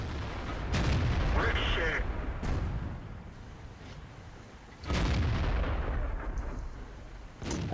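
In World of Tanks, a PZ V Panther's cannon fires several deep booming shots at spaced intervals, each followed by a rumbling tail, with a person talking throughout.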